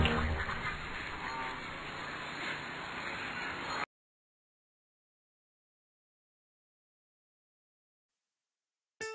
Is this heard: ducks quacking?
yes